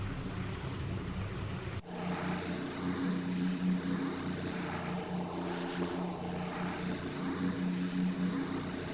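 A B-24 Liberator in a flight simulator drones steadily with its four Pratt & Whitney piston engines and propellers, a constant close hum after a short cut early on. No speech.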